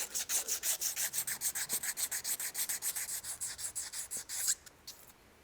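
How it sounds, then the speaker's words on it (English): Steady back-and-forth wiping of a metal gear pump shaft during a pump overhaul, a rhythmic run of about twenty close rubbing strokes that stops near the end, with no talking. "Clean the shaft."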